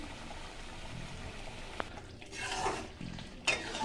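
Prawn curry with poppy seed paste, ginger and garlic simmers in a pan with a soft, low bubbling and faint sizzle, broken by a few louder stirring scrapes and a light clink near the end.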